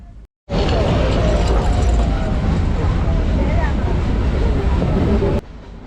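Ooty's Nilgiri Mountain Railway heritage train climbs a steep mountain line toward 2,200 metres with a steady, loud, close rumble and rattle that starts abruptly and holds for about five seconds, with voices murmuring beneath it.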